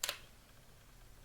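A Sony Alpha 1 mirrorless camera's mechanical shutter fires once for a still photo, a crisp, close double click at the very start that is followed by near silence.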